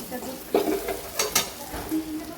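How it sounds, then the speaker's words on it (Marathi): Capsicum and crushed peanuts are sautéed in a pan. A soft sizzle runs under a few quick scraping stirs of a spatula. "शेंगदाण्याचं कूट टाकल्यानंतर पण असं छान परतून घ्यायचं आहे."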